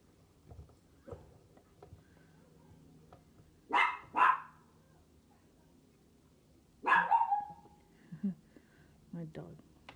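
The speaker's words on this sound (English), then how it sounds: "Stop barking!" A pet dog named Cosmo barks indoors in a few short sharp bursts with pauses between, moderately near, while a person's voice speaks over and around the barks.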